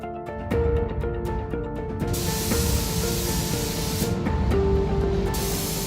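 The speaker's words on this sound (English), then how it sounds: "The vintage forklift is getting a fresh coat of paint." Spray painting a vintage Ameise forklift in yellow: bursts of steady close hissing spray start and stop, with a long continuous pass in the middle, over faint background music and no talk.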